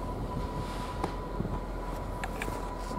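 A VIA Rail passenger train, number 84, passes on a windy day in a steady, rumbling roar with wind buffeting over it and a few sharp knocks and clanks, no talking.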